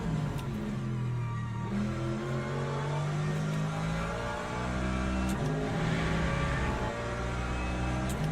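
Race car engine in the Le Mans Ultimate racing game during a wet race at Bahrain, a loud steady roar with rising and falling revs and gear changes, continuous and close throughout.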